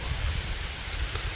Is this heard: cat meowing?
no